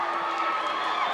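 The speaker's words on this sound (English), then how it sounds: "this capacity crowd on hand this week really turned on" A capacity crowd at a 1984 televised wrestling event cheers and roars in a steady, dense wash of noise, loud and continuous without letup.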